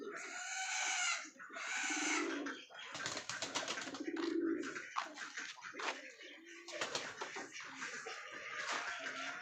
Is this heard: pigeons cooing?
yes